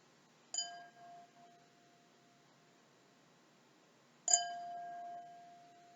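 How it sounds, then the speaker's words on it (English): A fork taps the edge of a crystal glass twice, several seconds apart, and each tap leaves a bright ringing tone that fades slowly in a quiet room. "She gently tapped the edge of the glass with a fork, and it made a delightful"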